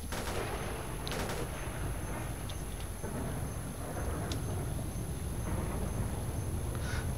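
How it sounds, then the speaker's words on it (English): Gunfire from a firefight in S.T.A.L.K.E.R. Shadow of Chernobyl, with scattered, fairly distant shots and cracks spread over a dense, steady background rumble. "good, a firefight. I can deal with a firefight."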